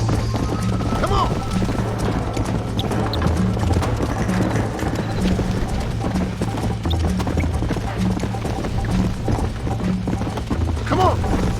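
Horse hooves clip-clop at a gallop in the Western video game Red Dead Redemption, a dense, continuous drumming with creaks and occasional whinnies, and a rider's voice calling out over it.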